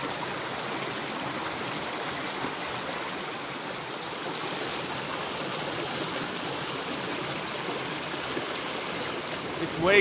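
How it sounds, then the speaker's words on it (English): A small stream flows through a snowy winter forest in Algonquin, a steady, close, broadband rush and trickle of water that holds constant throughout, with no break. "Water."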